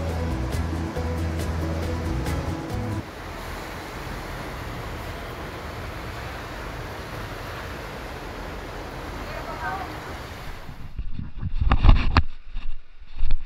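Sea waves wash onto the sand at Patar Beach in Bolinao, Pangasinan, a steady broadband surf roar with wind buffeting the microphone, and louder handling bumps near the end.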